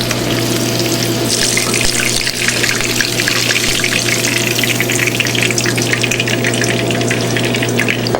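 Yuca-stuffed shrimp deep frying in hot oil, a steady dense bubbling hiss that stays loud and constant throughout with a low hum beneath, no talking.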